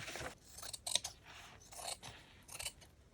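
Scissors cut junk journal cover material in quiet, close snips and crisp rustling strokes, several in quick succession.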